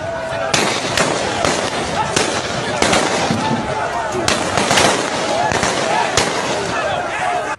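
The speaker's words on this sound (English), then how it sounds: "There's another video footage of soldiers clearly shooting." Dense bursts of gunfire from soldiers, rapid sharp cracks in irregular volleys over a loud, crowded outdoor scene with shouting voices throughout.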